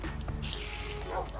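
Dog barking in the video game Minecraft, a couple of quick, yappy barks close up with a whimpering edge, heard over a brief loud burst of game noise.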